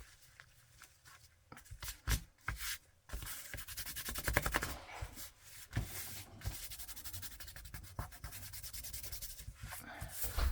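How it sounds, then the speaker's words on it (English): Hands rubbing and smoothing the bias-cut fabric of a men's tie, producing soft irregular scratchy swishes in short bursts, quiet and close with no talking. "Just rubbing the wrinkles out because ties are cut on the bias."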